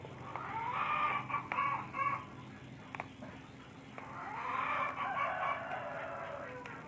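Native chickens cluck and crow in two loud bursts separated by a quieter stretch, with no talking.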